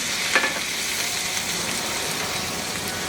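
Garlic and spice paste fries with a splash of vinegar in a hot pan for Goan prawn balchão, a steady close sizzle with brief stirring scrapes and no voices.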